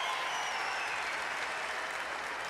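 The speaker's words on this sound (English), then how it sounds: "Listen to the roar as he steps up to Pommelhorse." Home crowd in a gymnastics arena at the European Championships cheering and applauding as a German gymnast approaches the pommel horse, a continuous loud roar of clapping and cheers with a thin whistle-like tone near the start.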